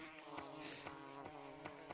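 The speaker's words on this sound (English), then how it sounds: "those are bees" Insect-like buzzing from bees around beehives in the Gorilla Tag video game, a steady droning hum with several brief louder pulses over two seconds, no talking.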